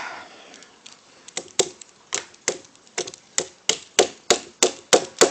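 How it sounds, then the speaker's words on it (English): Repeated hammer taps drive a pin into the mainspring housing of a Kimber Custom II pistol, sharp close strikes that start sparse and quicken into a steady, louder rhythm. "hammer it in a little bit"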